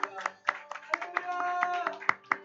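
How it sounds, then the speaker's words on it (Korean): A church youth worship congregation claps in a quick, rhythmic burst of applause over a sustained musical tone, each clap crisp and close. "하나님께 감사 영광의 박수 올려드립니다."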